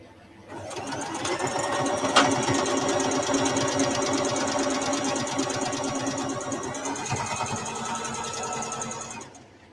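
A sewing machine stitches fabric in a steady close run of rapid mechanical clatter lasting most of the time, with a brief sharper knock near the start and no talking.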